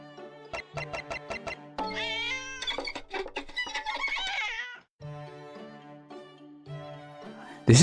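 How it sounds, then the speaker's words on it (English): A cartoonish sound effect from The Great Ace Attorney game of the cat Wagahai tangled in Sholmes' violin: rapid plucked violin notes mixed with meows and yowls, a squealing glide, then choppy string hits. "This is a special sound effect used exclusively to portray Wagahai, the cat getting caught up in Sholmes' violin."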